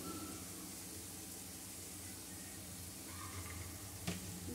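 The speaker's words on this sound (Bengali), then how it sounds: "দিয়ে মশলাটা ভালো করে কষিয়ে নেব" Spice masala with salt and turmeric frying in a pan for a chital fish curry, a soft, low sizzle with faint stirring and one brief clink near the end.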